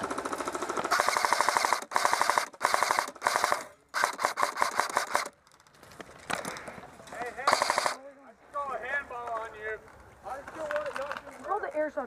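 Airsoft guns fire in rapid full-auto bursts, loud and close, with short pauses between strings, while players shout and talk over and between the volleys.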